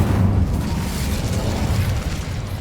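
A heavy, rumbling fire blast roars continuously from an Incendio spell in the Hogwarts Legacy video game, loud and close with no voices.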